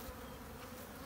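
Honey bees buzz faintly and steadily at an open hive during beekeeping, a soft continuous drone.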